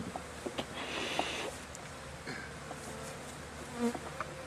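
A steady, close buzzing of many honey bees at a hive entrance in late winter, with individual insects droning past now and then.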